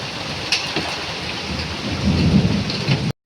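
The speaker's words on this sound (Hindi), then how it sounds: "अचानक मौसम बदला और बहुत तेज़ बारिश होनी शुरू हो गई।" Heavy sudden rainstorm with thunder on a hot day, steady dense downpour hiss with low rumbling thunder swelling underneath, close and continuous until it cuts off.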